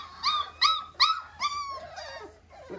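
A puppy, the last chocolate female of a litter, whimpers in a quick series of high, thin cries close by, four sharp whines followed by softer trailing whimpers, with no talking.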